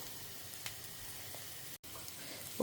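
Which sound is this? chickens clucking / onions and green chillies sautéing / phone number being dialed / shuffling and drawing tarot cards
onions and green chillies sautéing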